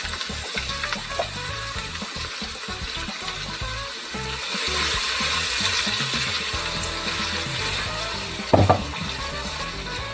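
Chopped onion sizzling in hot oil for Nigerian okra soup, a steady close frying hiss with stirring scrapes and a brief louder clatter near the end.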